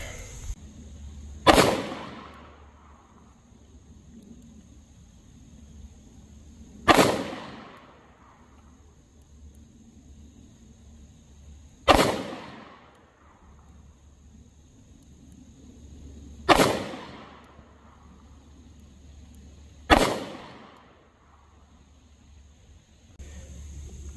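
A .38 Special handgun fires five standard-pressure rounds at a target, each a sharp, loud crack with a short decaying tail, spaced about four to five seconds apart over a quiet background.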